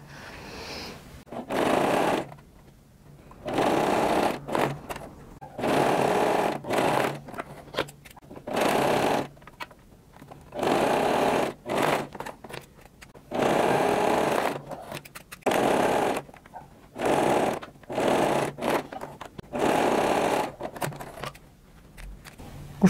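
Sewing machine stitching a seam on high-waisted panties with a waistband, in a series of loud rapid whirring runs of a second or two each, separated by brief pauses.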